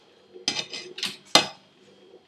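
Washed mutton pieces dropped into a pressure cooker with ghee, a few close, bright clattering thuds and metallic clinks in quick succession, then quiet.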